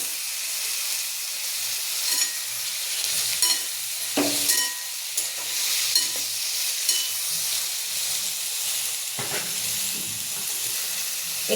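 Mixed bhogi vegetables frying in a pan with oil and spices, a steady soft sizzle and hiss with occasional scraping stirs, fairly faint and continuous.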